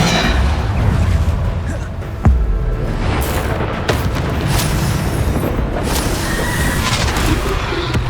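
Repeated magical explosions from the Bombarda spell in the Hogwarts Legacy video game, deep booms and bursts layered over dense game noise, with a sharp blast near the middle and more blasts later.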